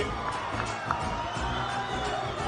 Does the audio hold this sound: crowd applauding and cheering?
yes